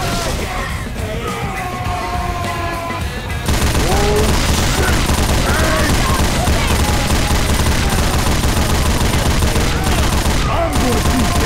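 Heavy continuous gunfire from several weapons pouring into a tank in the zombie shooter Left 4 Dead 2, loud and dense after a quieter opening, with yelling mixed in.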